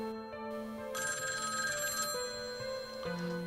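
An old black telephone rings inside a classroom, its electronic bell trilling in repeated bursts with a steady, moderately quiet tone and no voices.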